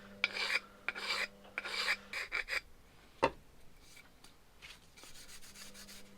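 Several quiet, rhythmic rasping strokes of filing smooth a burr off the sump gasket face of a VW Golf Mk2 GTI 1.8 engine block, with a single sharp click in the middle.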